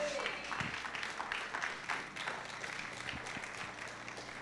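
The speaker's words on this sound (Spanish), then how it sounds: "Dele un aplauso al Señor" A church congregation at a Spanish-language sermon gives a round of applause, a soft and fairly distant patter of many hands that runs steadily throughout, with some voices murmuring beneath it.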